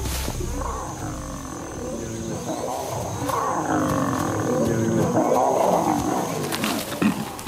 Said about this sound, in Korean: 사자들은 명성에 걸맞게 격렬한 싸움을 보여줍니다